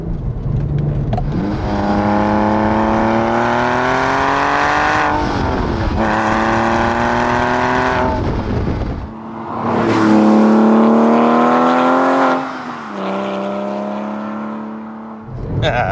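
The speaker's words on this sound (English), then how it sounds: "press the little exhaust button down here, which Guy has retrofitted from a PSE equipped example, that's Porsche Sports Exhaust, and it takes on a whole different character" A 2005 Porsche 911 997 Carrera 2 with a retrofitted Porsche Sports Exhaust opened up, its engine revving up loud and raw in repeated rising sweeps, dropping briefly between pulls before climbing again.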